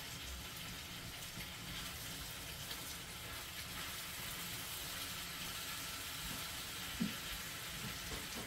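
Rolled endives sizzle in a frying pan during gratin preparation, a steady broadband hiss and crackle held at an even level throughout, with one small clink near the end and no talking.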